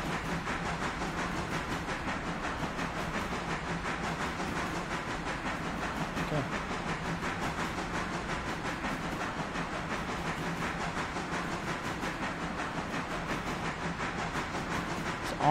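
Cargo train rolling steadily in the railroad video game Railroader, a continuous rumbling hiss with rapid rhythmic clatter, fairly quiet and alone throughout.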